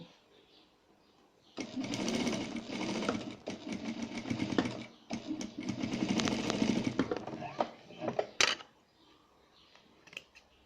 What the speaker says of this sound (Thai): นี่คือเป็นการเย็บกุ้นนะคะ เย็บกุ้นติดผ้า